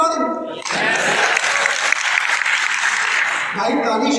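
Audience applauding in a hall at a poetry recital, a loud dense burst of clapping lasting about three seconds, with a voice speaking just before and after it.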